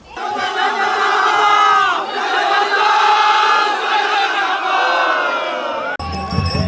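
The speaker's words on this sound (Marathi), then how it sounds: "समोर बघा मित्रांनो कसला जल्लोष चालला बघा." A large crowd cheers and roars loudly at a village palanquin festival in Konkan where soil is thrown onto the palanquin, with sustained shouting and whoops from many voices.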